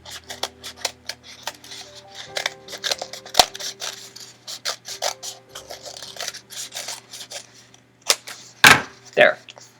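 Scissors snip through a paper cone being trimmed for a model of Leonardo's tank, making a quick run of crisp, close cuts with short pauses, then a few louder snaps near the end.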